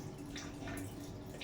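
Tap water flows steadily in a home kitchen as municipal supply arrives, a soft continuous splashing and trickle heard close by with no talk.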